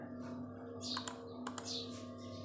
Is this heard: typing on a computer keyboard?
yes